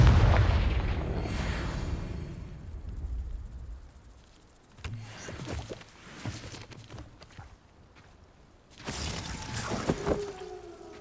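A Confringo fire spell from the video game Hogwarts Legacy explodes with a loud opening boom and rumbling decay, followed by scattered crackling impacts and a second burst of game effects near the end.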